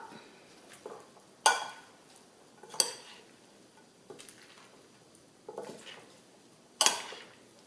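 Mango salad dressed with fish sauce being tossed in a bowl, with several sharp clinks of a utensil against the dish spaced irregularly over soft background rustling, close and fairly quiet, no talking.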